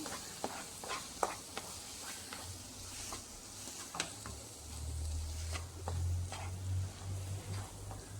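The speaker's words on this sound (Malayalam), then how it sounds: "ഇതേപോലെ ഇളക്കി കൊടുക്കണം. കുറച്ച് സമയം ഇളക്കണം." A ghee mixture for mango boli is stirred in a pan, soft scraping strokes and light clicks of a spoon against the pan at an irregular pace, over a faint low sizzle, quiet and without talk.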